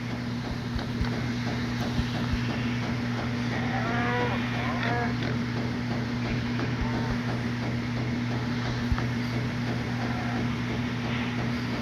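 Cattle lowing in the Minecraft video game, a few low moos over a steady droning background hum, with no voices heard.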